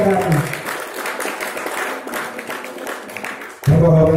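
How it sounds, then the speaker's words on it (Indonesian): Applause from a lecture audience at a talk about Bung Karno, a fairly loud crowd clapping that runs for several seconds before a voice cuts in abruptly at the end. "Tepuk tangan dulu, tepuk tangan."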